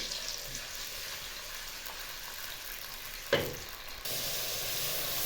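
Chopped onion sizzles steadily in hot oil for an aloo gobi matar sabzi, a continuous broadband frying hiss with one brief louder burst of crackle midway as it is stirred, no talking.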